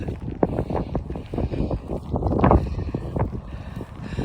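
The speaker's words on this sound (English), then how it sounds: "the wind has certainly picked up a wee bit" Gusty wind buffets the microphone at an old graveyard by a family mausoleum, with loud broadband roaring surges and bursts throughout, as hailstones come down, though they cannot be separately made out.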